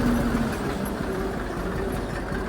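A tractor engine runs close by in a farm field, a steady low rumbling drone with an even throb that never lets up, and no one speaks.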